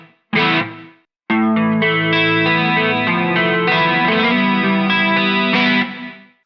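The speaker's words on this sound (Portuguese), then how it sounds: "Eu uso um reverb para dar um pouco de ambiência." Electric guitar played through a pedalboard with distortion, chorus and reverb into an amplifier: a brief chord, a short pause, then sustained, thick strummed chords ringing loud with ambient reverb tails fading at the end.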